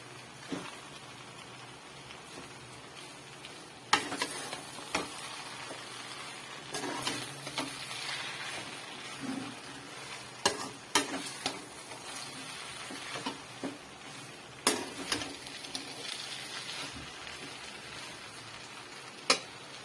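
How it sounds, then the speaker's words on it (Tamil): Noodles being stirred in a hot pan with curry leaves nearby, a steady frying sizzle with scattered scraping and clinking strokes of the spoon against the pan, close and continuous with no talk. "நல்லா கிண்டி விட்டுக்கலாம்"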